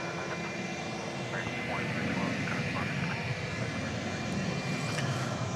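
A Frontier Airlines jet, Flight 2998, taxis into position at DFW airport at night, giving off a steady broadband engine rumble that holds at a moderate level throughout, with faint voices underneath.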